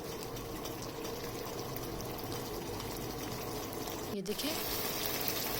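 Roughly one to one and a half cups of water poured into a pot of cooking mutton achar gosht after the tomatoes have been fried down. A continuous rushing pour is broken by a brief clatter near the end, while someone speaks briefly.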